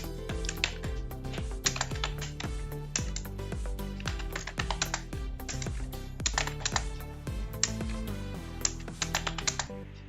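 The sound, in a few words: typing on a computer keyboard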